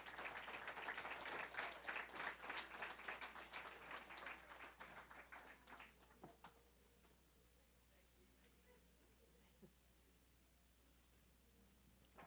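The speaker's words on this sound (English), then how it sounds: "Once more, a round of applause for these two hard workers." Audience in the BP Ballroom at Queens Park Oval, Port of Spain, claps for two award recipients; faint, distant applause lasts about six seconds, then fades to quiet room hum with occasional small ticks.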